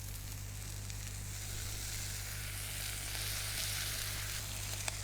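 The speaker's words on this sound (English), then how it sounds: "we can put our bacon on as well" Bacon sizzling in a pan while beef burgers are cooked, a steady close crackle and hiss continuing evenly with a faint low hum underneath and no talking.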